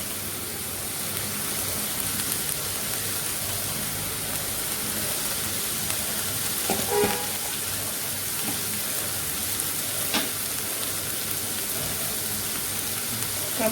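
Coriander and chilli powder fry in a pan for a Kerala-style dry prawn curry, giving a steady, close hiss with a few faint clicks and scrapes. No one speaks.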